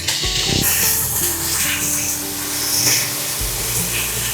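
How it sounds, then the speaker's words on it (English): Onions frying in a pan with smoked Polish pork belly, a steady loud sizzling hiss that runs continuously, with faint background hum and no talking. "Just added the onions too, so I'm going to wait until they are fried with the pork belly"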